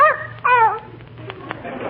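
A small dog named Fifi gives a couple of short, high yips and whimpers at close range, followed by faint clicks and muffled shuffling in a quiet room, with no clear talk over it.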